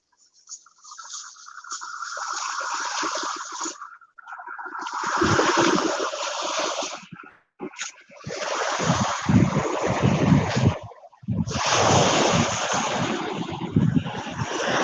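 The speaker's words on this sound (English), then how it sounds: "I bet you hear from the background a lot of like noise of the wind because the wind is kind of strong right now" Strong wind at North Beach buffets the microphone in long roaring gusts separated by brief lulls, loud and close, with the sea faintly beneath it.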